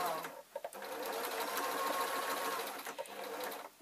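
A sewing machine runs steadily, stitching a rectangle through lightweight pleated waistcoat fabric, with brief pauses near the start and a stop toward the end.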